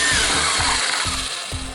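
Power drill boring out a rivet in the door of a Mercedes-Benz ML-Class W163, heard close and fairly loud as a steady grinding whine with a few periodic low thumps as pressure is applied, with no talk.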